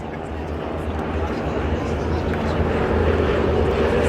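Wingwalking display aircraft at the Farnborough International Airshow drone past with a steady, broad engine roar that swells slightly, heard from a distance with no talk over it.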